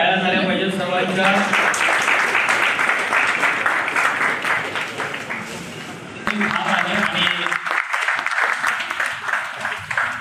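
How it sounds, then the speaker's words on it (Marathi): Audience applause at an award ceremony in a training hall, a dense continuous round of clapping from many hands lasting throughout, loud and close, with a voice faintly underneath. "जोरदार टाळ्या झाल्या पाहिजेत सर्वांच्या।"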